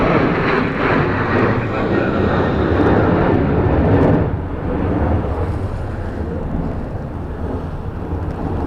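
An Airbus airliner lands on runway 16 at Dublin Airport in a crosswind, a loud, broad jet roar that swells and then eases away, with wind buffeting the microphone.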